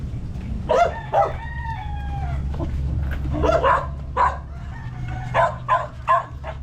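A dog barks several times in short bursts, fairly close, while a rooster crows in the background over a low steady hum.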